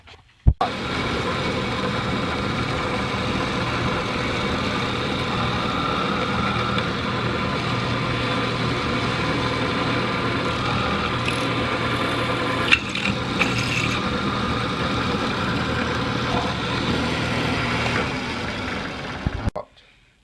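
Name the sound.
drilling a centered hole in a gun magazine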